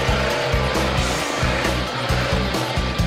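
A race car driving a competition course, its engine loud and close, droning steadily with rhythmic pulsing as it revs and shifts throughout.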